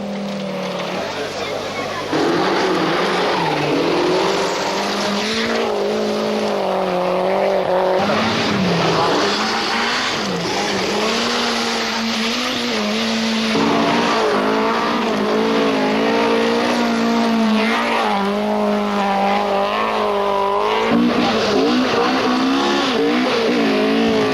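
Audi Quattro rally cars on a 1981–1982 Lakes rally stage, engines revving and tires skidding at steady volume while a narrator's voice runs over the action throughout.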